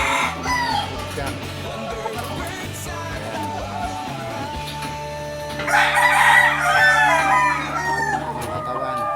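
A large rooster in a backyard crows loudly and close by, one long drawn-out call over a steady low hum and mechanical background.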